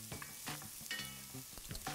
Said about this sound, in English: I'm just gonna saute the onions first.